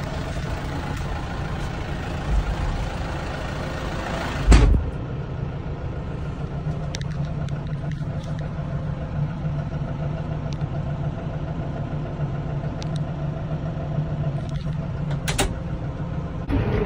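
A tractor engine runs steadily while being ridden, a low droning idle with a constant hum, broken by a sharp clunk partway through and a few faint creaks and rattles.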